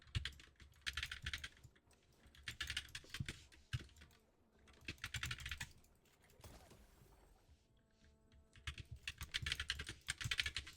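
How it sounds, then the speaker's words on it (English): Quick, steady bursts of typing on a computer keyboard, close and fairly loud, running in clustered runs of clicks with short pauses between them. "Hopefully my keyboard is not too loud"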